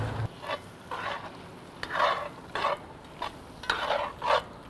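A spoon stirs and scrapes a sizzling pan of sauce as wine and garlic deglaze it, with repeated bursts of scraping and bubbling sizzle coming at an irregular rhythm, close and moderately loud.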